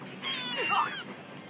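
A cat in the video game Sakura School Simulator gives a single drawn-out meow with wavering pitch, clear and fairly close against a faint background.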